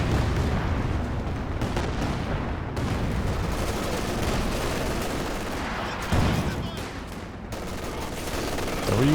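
Artillery barrage in the Company of Heroes 2 strategy game, a dense, continuous roar of overlapping shell blasts and booming impacts, loud and sustained throughout without pauses.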